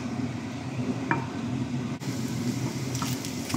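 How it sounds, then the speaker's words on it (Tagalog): Cooked pulled beef being sautéed to brown in a pan gives a steady close sizzle, with occasional scrapes and clinks of a utensil stirring against the metal. "Gisa. Para mag-brown siya."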